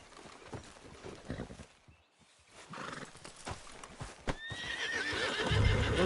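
A horse in the Far Cry video game clip-clops along with steady hoofbeats and lets out a whinny toward the end, close and moderately quiet, with no talking.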